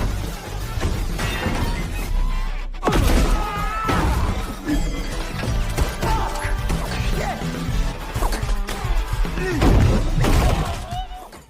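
A gunfight in a vampire film, with dense bursts of crashes, smashing and shattering impacts over a loud cinematic soundtrack, while a narrator talks over the action throughout.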